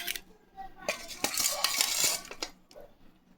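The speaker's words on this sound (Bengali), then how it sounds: "মাংসটা এই বাটিতে পরিবেশন করছি।" Cooked, thickly reduced meat is served into a bowl with metal utensils, giving scattered scraping and clinking hits of spoon against dish, close by, clustering into a busier run in the middle before easing off.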